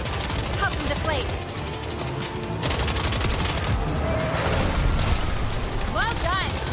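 Rapid gunfire from a video game rattles in dense bursts, nearly continuous with short pauses, alongside mechanical clatter and a voice talking over the action.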